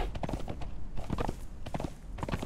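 Horse hooves clip-clop at a steady walking rhythm in the video game Conan Exiles, close and fairly clear, with a faint whinny-like sound alongside.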